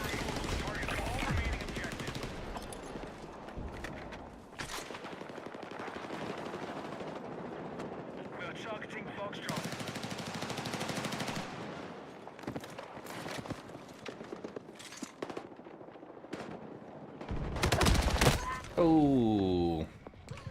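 Bursts of rapid automatic gunfire in the Star Citizen video game, loud and repeated, mixed with other game effects and people talking over the action.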